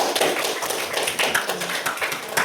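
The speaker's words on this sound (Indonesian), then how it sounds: "Tepuk tangan untuk Heldi." Applause in a classroom during a micro-teaching lesson, a dense patter of many hands clapping at once, steady and fairly loud for a couple of seconds.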